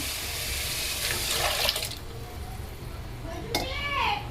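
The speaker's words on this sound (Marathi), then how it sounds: "आता टाकते मी डाळ आणि डाळीचं पाणी." Dal and its cooking water poured into hot spiced oil for katachi aamti, a close liquid splash and gurgle that rises and fades over several seconds.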